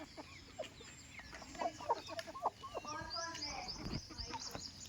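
Several chickens, hens and roosters brought to a farm for sale, cluck and chirp in short bursts close by, with people talking over them throughout.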